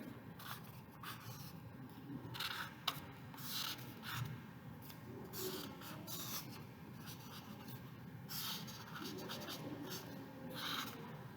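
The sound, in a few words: pencil sketching an animal form on a gelli print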